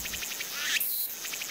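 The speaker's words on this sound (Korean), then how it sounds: "이 울음소리를 들으면 어떤 매미가 됐는지 알 수 있을 거예요" A cicada calls in a summer forest, a shrill buzzing song in rapid rhythmic pulses that briefly merge into one sustained high whine, fairly close and heard alone.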